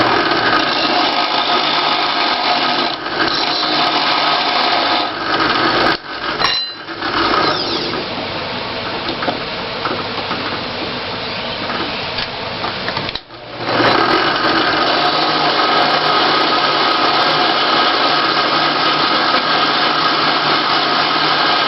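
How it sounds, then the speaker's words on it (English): A drill press spins a shaft while its bottom end is ground down and tapered to a point, producing a loud, steady whirring grind that runs almost continuously with two brief dips in level. "grinding the bottom portion of the shaft down using the drill press and tapering it to a point"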